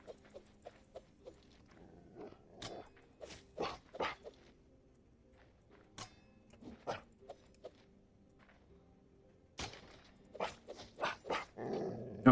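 A creature in the Hytale video game growls, giving several short, rough snarls and grunts scattered across a quiet background, with louder, denser bursts toward the end.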